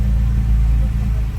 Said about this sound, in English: High idle for a moment there.